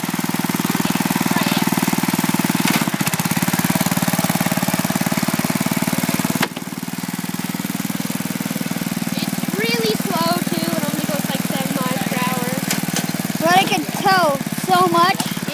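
A small 5 hp tractor engine runs steadily while driving, pulling a home-made trailer. The close, loud drone holds without a break and keeps going under brief bits of talk near the end.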